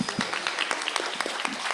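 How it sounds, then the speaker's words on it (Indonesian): An audience at an Indonesian BSI tech talk applauds, with dense continuous clapping throughout. "Boleh tepuk tangan?"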